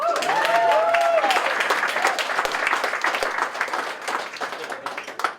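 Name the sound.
audience applause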